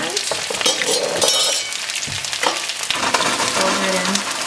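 Garlic, onion and serrano peppers hit hot oil and sizzle loudly up close, a crackling frying hiss with stirring clatter and a brief voice over it.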